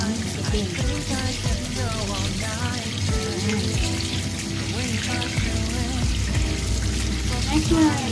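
Tap water runs steadily over prawns being rinsed in a kitchen sink, a close, continuous splashing stream, with music playing underneath.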